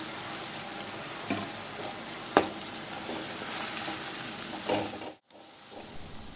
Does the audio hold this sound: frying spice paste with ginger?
yes